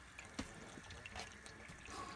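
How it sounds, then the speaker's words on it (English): Hot water drains from a backfilled bath tap, splashing and trickling at a low, steady level with a few brief sharper drips and spurts, and no voices. "There's a lot of water that's got to come out."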